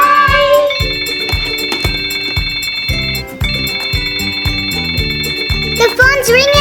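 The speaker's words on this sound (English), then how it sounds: "phone's ringing again" A toy telephone plays an electronic ringtone melody, loud and near, a repeating tune of tonal beeps with a voice speaking over it toward the end.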